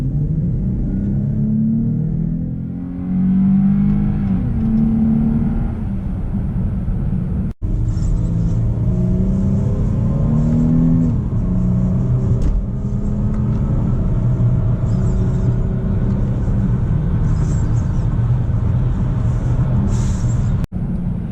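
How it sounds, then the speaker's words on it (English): A 2018 Chrysler 300 sedan accelerates from inside the cabin, engine note rising and falling through gear changes in a long, steady, moderately loud pull toward highway speed. "we're gonna take it around here quickly and then get an acceleration here"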